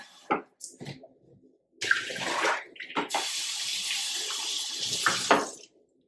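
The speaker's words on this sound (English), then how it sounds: "So I have a dirty vase here. Let me show you how this just cleans this right up." Dirty vase being washed at a sink with a Swedish cellulose sponge cloth: running tap water and splashing scrubbing in several close bursts, with brief pauses between.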